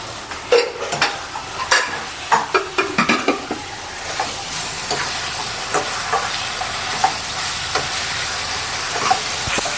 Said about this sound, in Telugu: మటన్ వేసుకున్న తర్వాత ఒక్కసారి ఇలా కలుపుకోండి.